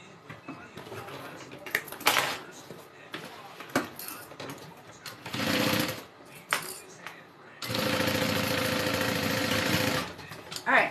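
A sewing machine stitches the exterior of a handmade Big B bag, with short mechanical bursts and then a long steady run of several seconds, nearby and loud, with a voice talking between the runs.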